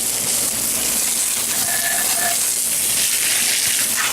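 A garden hose sprays water over a lawn mower deck and seat, giving a steady, loud hiss and gush that runs without a break.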